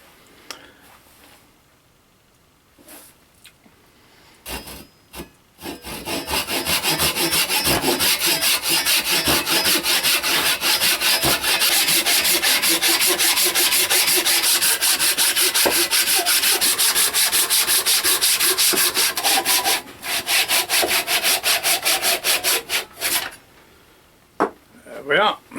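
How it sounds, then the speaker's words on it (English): Japanese hand saw cutting through a wooden block, a few tentative strokes first, then a long run of fast, rhythmic, loud rasping strokes before it slows and stops. "I'm just going to cut this block off now. You could obviously use a bandsaw or a circular saw, whatever. I'm using one of my Japanese saws."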